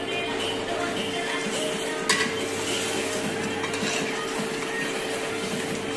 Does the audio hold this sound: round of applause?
no